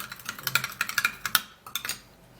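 A utensil stirs a cucumber skin treatment in a bowl, giving a quick run of light clinks and scrapes against the bowl, fairly close and moderately loud, with no talking.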